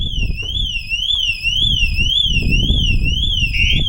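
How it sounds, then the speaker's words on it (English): A loud aftermarket car alarm on a VW Transporter wails continuously, its siren rising and falling in a rapid repeating sweep, close by with a low rumble underneath. "you can see it trigger and then go into full alarm"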